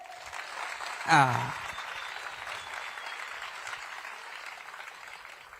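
An audience at a comedy show gives a soft, steady round of applause that holds at an even level for several seconds, with a brief voice calling out near the start.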